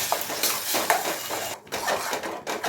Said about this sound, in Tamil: நல்லா கலந்துப்போம்.